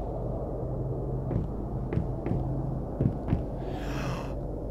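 A video game plays a slow heartbeat as a character descends stairs, soft thumps at irregular intervals over a constant low droning rumble, ending in a brief airy hiss.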